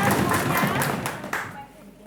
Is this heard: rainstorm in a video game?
no